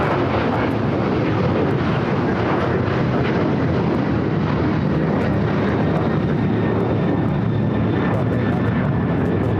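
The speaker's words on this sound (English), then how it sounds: "Next takeoff is flight heading to Cabo, 737-900ER, Alaska Airlines Flight 1360" An Alaska Airlines Boeing 737-900ER takes off at LAX, a loud, continuous broadband engine roar holding steady throughout with a faint high whine on top.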